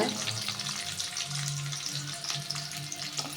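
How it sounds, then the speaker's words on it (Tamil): Onions frying in a pan with ginger and garlic for vegetable fried rice, a steady close sizzle with faint stirring and clinking throughout, no talk. "இஞ்சி பூண்டு போட்டு நல்லா வதக்கிட்டு வெங்காயம் தேவையான அளவு ஃப்ரை பண்ணிக்கோங்க"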